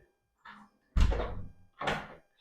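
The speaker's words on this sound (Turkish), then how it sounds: "Bu kapıyı kapattığınız zaman ara yerle bir bağlantınız yok." An interior door in a house is moved and shut, giving a soft first sound and then two louder, close thuds about a second apart in a quiet room.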